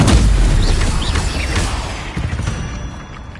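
Incendio fire spell cast in a Harry Potter video game: a loud, close burst at the start, then a crackling, rumbling flare that gradually fades with scattered pops.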